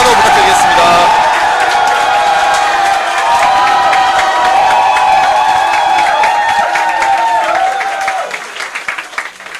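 Large crowd cheering and clapping loudly at a youth committee launch and appointment ceremony, with whoops and shouts over sustained applause that holds steady before thinning out near the end.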